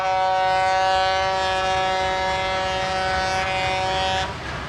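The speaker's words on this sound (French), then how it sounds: "Les trains de Cannes, les seuls chemins de fer du pays, emportent les douleurs anonymes vers les raffineries dominicaines" A sugar cane train hauling cane to the refineries sounds one long, loud, steady horn blast that holds for about four seconds before cutting off, with faint rumble underneath.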